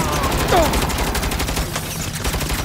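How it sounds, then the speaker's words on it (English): Sustained automatic gunfire from Saints Row on PS5 rattles in a fast, dense stream of close shots, loud and continuous, with a brief voice under the fire. "Just shut up and shoot."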